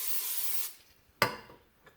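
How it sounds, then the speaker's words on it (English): Cooking spray hisses onto a pan for low-carb protein pancakes in a short, close burst lasting under a second, followed after a pause by a single sharp knock and a faint tap. "let's spray our pan so it doesn't stick"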